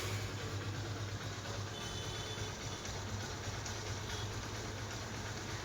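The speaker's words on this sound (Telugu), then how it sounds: "మీకు ఇంజిన్ బీటింగ్ అది వినిపిస్తా అని చెప్పింది" A restored Honda Unicorn motorcycle engine idles with a steady low throbbing beat, constant and close throughout, with no voices.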